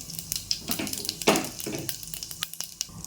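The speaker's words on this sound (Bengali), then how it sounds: "কুকারে তেল দিয়ে দিয়েছি, জিরে ফোড়ন দিয়ে দিলাম।" Cumin seeds hit hot oil in a pressure cooker and crackle and spit busily, with quick irregular pops and a louder sputter midway, close and unaccompanied by speech.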